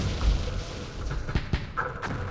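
Muffled booms from mortar fire in the WWII wargame Campaign Series West Front, set during the D-Day assault on Omaha Beach, a few dull thuds in quick succession over low ambient rumble.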